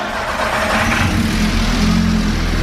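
A VW MK5 GTI engine runs steadily at idle after being reinstalled, a close, even, continuous hum with a low throb and no voices over it.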